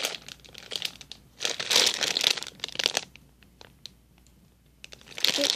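Crinkly plastic packaging from a Walmart haul is handled up close, irregular bursts of crackling and rustling with quiet gaps between, no talk.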